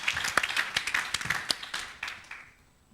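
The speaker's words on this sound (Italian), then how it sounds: "per loro vi chiedo veramente un applauso enorme per lo sforzo che fanno quotidianamente in questa attività." Audience applause at a Sardex business event, a dense burst of claps with a few sharp individual slaps standing out, close and lively, then tapering off and fading to near silence.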